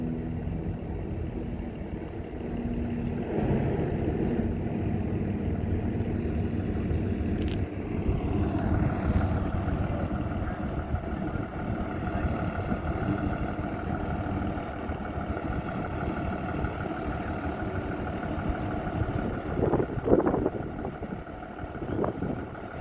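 A Loomis armored truck idles nearby, a steady low engine rumble that holds for over twenty seconds with faint shifts in tone and a few soft knocks near the end.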